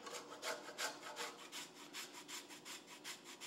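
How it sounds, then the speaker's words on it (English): An orange is zested by hand for a pumpkin pie. The scraping comes close and quiet in a steady run of about a dozen rhythmic rasping strokes, with no talking. "we're going to zest an orange"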